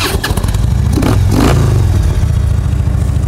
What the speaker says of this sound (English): those Reinhardts pop off real good. They got a really nice sound to them